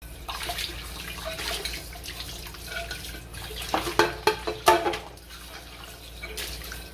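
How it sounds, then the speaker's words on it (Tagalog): Tap water runs and splashes in a sink during dishwashing, with a cluster of sharp clinks and splashes in the middle as dishes are handled, and no talking. "ako maghugas ng mga hugasin"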